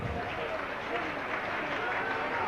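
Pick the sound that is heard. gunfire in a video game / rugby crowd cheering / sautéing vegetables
rugby crowd cheering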